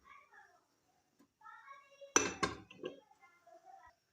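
A metal stand is set inside a medium-thickness cooking pot with two sharp metallic clinks close together, surrounded by soft speech before and after.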